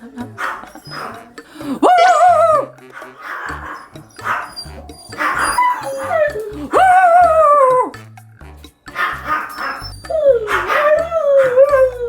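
Small Shih Tzu–Maltese mix dogs in a living room bark and howl repeatedly in loud, rising yelps, several dogs overlapping in bursts with short pauses between.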